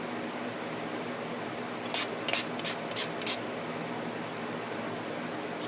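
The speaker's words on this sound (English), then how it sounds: "I'm actually going to spray a couple of dabs of it on there" A DIY gold glow mist is sprayed onto an arm in several quick, soft hissing bursts, close and fairly quiet against a low background hum.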